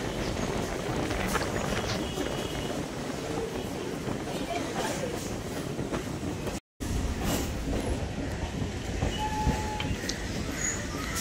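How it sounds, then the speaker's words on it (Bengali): A Sealdah–BBD Bag local train pulling into Eden Gardens station in Kolkata, a loud continuous rumble of railcars with rattling wheels, briefly cut out midway, then resuming. "ট্রেনটা ইডেন গার্ডেন স্টেশন চলে এসেছে।"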